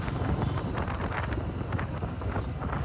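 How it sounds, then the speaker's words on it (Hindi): Steady wind buffets the microphone with a low, rushing roar throughout, with no voices heard. "हवा चल रही है"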